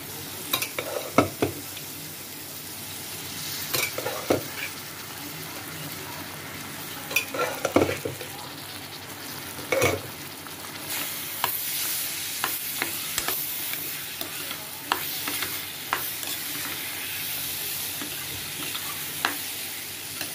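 Oil sizzles steadily in a wok as chickpeas are added and a spoon scrapes and stirs, with sharp clatters of metal against metal at irregular intervals, close to the listener.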